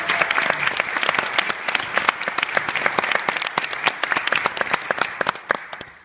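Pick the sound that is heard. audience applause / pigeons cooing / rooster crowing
audience applause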